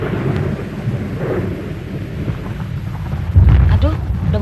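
Deep rolling thunder rumbles steadily under a rain-laden storm in an old Indonesian film scene, with a louder low boom near the end.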